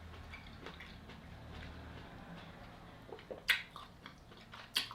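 Someone eats ruby red grapefruit close to the mic, with faint wet chewing and a few sharp squishy bites near the end, quiet and without talk.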